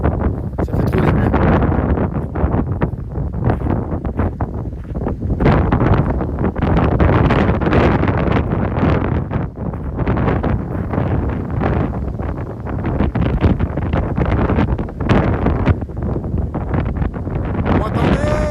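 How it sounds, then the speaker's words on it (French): A cool, strong wind on an outdoor walk roars and buffets against the microphone loudly and continuously for the whole stretch. "je sais pas si on entend, mais il y a un vent bien frais."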